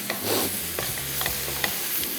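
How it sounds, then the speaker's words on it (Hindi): Precooked beef filling for empanadas, with garlic and red chilli, is stirred and pan-fried, giving soft scraping stir strokes over a low, steady sizzle. "हमने सिर्फ इन चीज़ों को थोड़ा सा मिला के पैन फ्राई करना है"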